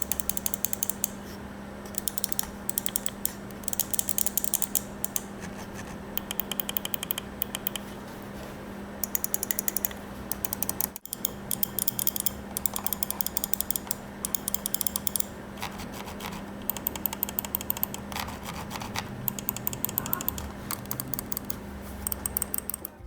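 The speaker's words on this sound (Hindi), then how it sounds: "जैसे आपने सुना डेथ हैडर के जो क्लिक्स है वो ज़्यादा लाउड है" Mouse button clicks from a Razer DeathAdder V2X and a Logitech G304, rapid crisp clicking in dense bursts throughout, close and fairly loud against a steady low hum, with no talking.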